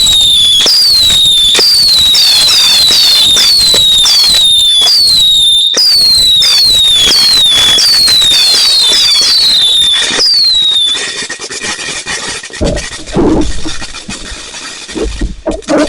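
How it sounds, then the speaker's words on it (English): Fireworks at a 2024 display in Prospect, Maine burst loudly again and again, with rapid crackles and whistling rising shells for about ten seconds before the noise thins into scattered distant booms. "And we are clear. Thank God for that. Fireworks."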